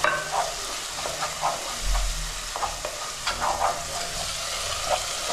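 Curry leaves sizzle and crackle in hot oil as a spoon stirs them for a meal maker curry, giving steady close frying noise with scattered pops and soft scraping strokes.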